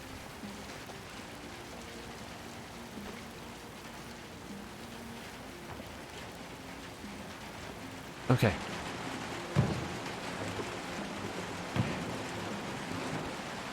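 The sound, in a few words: rain in video game Little Nightmares II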